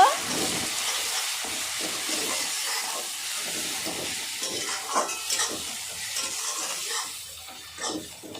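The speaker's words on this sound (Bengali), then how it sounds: "সব কিছু এখন ভালো করে মিক্স করে নেব" Rohu fish curry is stirred and fried in a pan, with a soft continuous sizzle and hiss overlaid by irregular scraping and stirring strokes, fairly faint and close.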